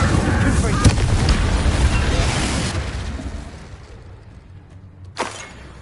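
Incendio fire spell bursts in Hogwarts Legacy, a loud rumbling blast that fills the first seconds and fades away, followed by one short sharp crack near the end.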